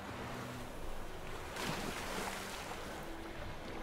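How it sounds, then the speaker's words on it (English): Steady wind blows across an open wilderness in the video game The Witcher III, a constant broadband rush that swells slightly midway, with faint surf-like washes and no talking. "going through the wilderness, listening to the wind."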